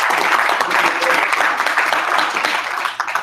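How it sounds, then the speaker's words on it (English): Audience applause at a live multiplex systems business event in New York City, a dense, steady wash of clapping filling the whole moment and easing slightly toward the end. "just give yourself one applause"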